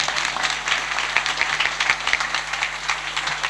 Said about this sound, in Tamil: ஒரு முறை எகைன் ஒரு பெரிய கைத்தட்டல் எல்லாருக்கும்